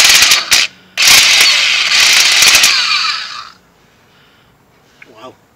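A pneumatic impact gun on a car's wheel lug nuts, jacked up for a wheel job, fires in a loud, close, harsh rattling burst with a brief break, then stops and leaves near silence.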